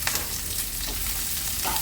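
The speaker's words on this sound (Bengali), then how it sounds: "শুকনো লঙ্কাটা একটু লাল লাল হলে এর মধ্যে অ্যাড করে দেব পেঁয়াজ কুচি" Chopped onion and dry red chillies frying in hot oil for an egg and snake gourd dish, a loud, continuous sizzle with a few brief stirring scrapes, heard close up.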